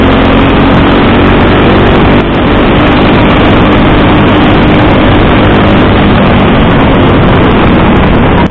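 Go-kart engines race around a karting track, a loud continuous high-revving drone with steady wind buffeting throughout and no talk.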